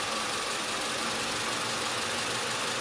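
Audi A5 1.8 TFSI (engine code CJEB) idling with misfires on cylinder 4, a steady, loud mechanical hum with an uneven, knocking undertone throughout, no voices.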